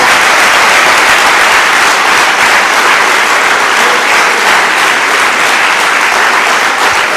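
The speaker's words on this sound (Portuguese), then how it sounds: "Numa salva de palmas a Jesus" A church congregation breaks into sustained, loud applause for Jesus, dense clapping filling the room evenly for about seven seconds without speech.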